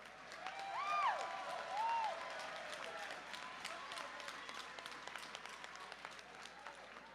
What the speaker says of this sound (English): how about a round of applause for one hell of a fight?